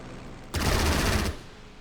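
Spitfire strafing run in a strategy video game, a single short burst of rapid machine-gun fire on bunkers lasting under a second, moderately loud against quiet background.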